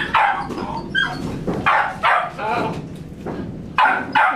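A dog at an SPCA shelter in Lakeland, Florida barks repeatedly, loud close yips and barks mixed with whimpers in an irregular rhythm, with people talking around it.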